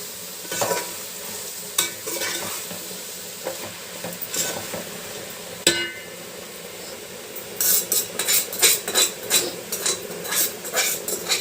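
Gongura (sorrel) leaves being stirred in a frying pan, with soft scraping and sizzling throughout and a burst of busier, louder clinking and scraping of utensil against pan near the end; no talking.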